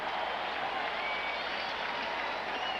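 Steady, dense applause and crowd noise fill a baseball stadium during a Reds at Cardinals game in 2009, a continuous roar of many hands clapping at distance with no break across the stretch.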